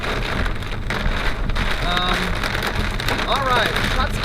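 Dense, steady patter of hail drumming on a Camaro's body during a thunderstorm, loud and continuous, with wind noise and a faint whistling tone mixed in.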